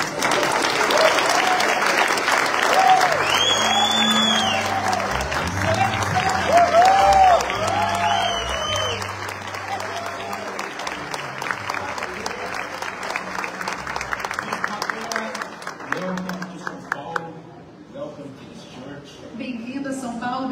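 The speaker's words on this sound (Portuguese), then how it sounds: "eu queria que você recebesse o bispo Matera com a melhor salva de palmas para você." A church congregation in São Paulo gives a long, loud round of applause welcoming Bishop Matera, with cheers and music underneath, and the clapping fades toward the end.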